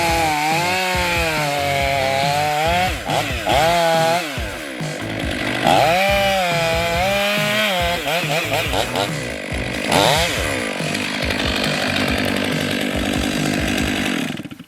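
A chainsaw bore-cuts into a pine tree that is rotten inside while it is being felled. The engine runs loud and continuous throughout, its pitch rising and falling as the bar plunges and works through the wood.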